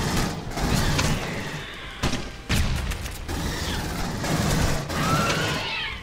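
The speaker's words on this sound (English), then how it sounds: "Hudson's pulse rifle has a more powerful grenade launcher. Short controlled bursts." Pulse rifle gunfire and grenade launcher blasts in the Aliens: Colonial Marines video game, loud dense bursts of rapid automatic fire broken by sharp heavy booms, close and continuous.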